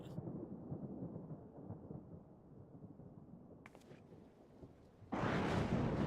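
Thunder over a desert in the video game Final Fantasy XIV: a long, low rolling rumble, a brief crackle, then a sudden louder burst of broadband noise near the end, with no voices.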